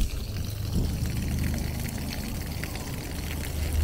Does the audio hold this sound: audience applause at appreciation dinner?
no